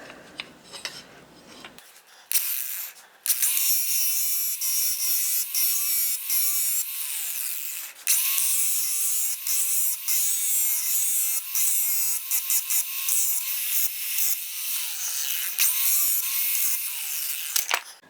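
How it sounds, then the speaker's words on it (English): An angle grinder bites into blades clamped in a vise, a loud, sustained, high-pitched grinding whine with wavering tone and brief dips as the disc meets the steel, close up and without speech. "I think I'm just going to put these in the vise one at a time and hit them with the angle grinder."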